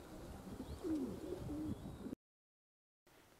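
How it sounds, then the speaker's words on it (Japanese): Pigeons coo softly at close range under steady outdoor background noise, a few low rolling calls followed by a brief silence, with racing pigeons flying nearby. "まだまだ飛び続けている鳩たちです。"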